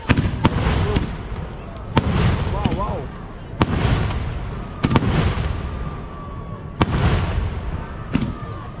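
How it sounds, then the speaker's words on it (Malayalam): Fireworks at a festival display burst in loud sharp booms roughly once a second, some followed by crackling and whistling trails, with crowd noise and a voice talking underneath. "വെടിക്കെട്ട് തുടങ്ങി വെടിക്കെട്ട് കരിമരുന്ന് പ്രയോഗം"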